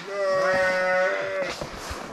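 A sheep bleats loudly and close for about a second and a half, a sustained wavering cry at feeding time in a livestock barn, followed by shuffling and farmyard noise.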